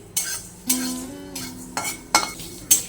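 Whole spices fry in a hot kadai over a low gas flame for a homemade pickle, with a spoon scraping and clinking against the pan in about six sharp, evenly spaced strokes over a soft sizzle.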